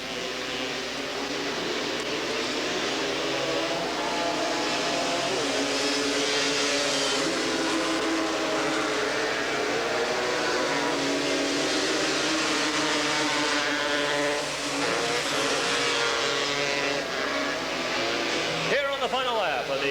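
Honda and Suzuki quad ATVs race at the 1986 Porterville Grand National, engines buzzing and whining continuously at mid distance while an announcer talks over the racket.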